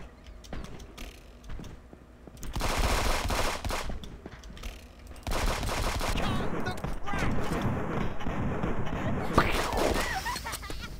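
Video game gunfire, bursts of rapid shots and crackling fire mixed with mechanical clicks, loud and dense across most of the stretch after a quieter start.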